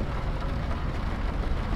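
Steady rain in London within Euro Truck Simulator 2, a dense, loud, continuous hiss of downpour with a low rumbling undertone and no pauses or voices.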